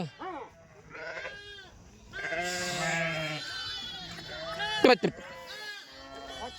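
Sheep bleat repeatedly in a busy farmyard with oxen nearby, wavering cries rising and falling close by and overlapping with one another while a person talks over them.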